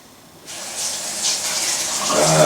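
Hot water pouring from a tap to soak chickpeas for a potato curry, starting after a brief quiet moment and building into a steady, close rushing stream that swells louder toward the end.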